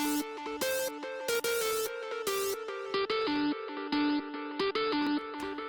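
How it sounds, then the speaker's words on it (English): A bright, buzzy saw-wave synth with diode distortion, hyper and OTT processing plays a choppy melodic line with a full, sizzling top end, punchy and loud. "Just a saw wave with some diode distortion, some hyper, some OTT on it."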